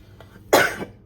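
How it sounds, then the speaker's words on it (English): A single sharp allergy cough, close and loud, breaks a quiet moment, followed by a faint breath. "I'm getting over an allergy cough, and it's very annoying"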